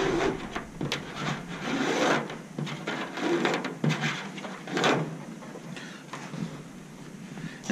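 Rib-lacing string being drawn through aircraft fabric with a needle, giving soft repeated rubbing and rasping pulls at close range, steady and moderately quiet with no talk.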